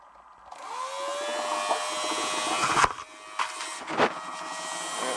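Electric pump draining a 50 gallon electric lowboy water heater starts with a rising whine, then settles into a steady motor drone with a few clunks and knocks, close and loud.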